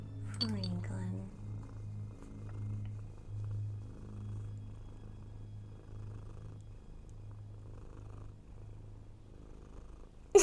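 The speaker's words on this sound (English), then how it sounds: "Just purring and purring." Cat purring inside the Nancy Drew game Tomb of the Lost Queen, a steady low rhythmic purr that runs the whole time with soft cycles, close and moderately loud, with brief speech-like sounds near the start.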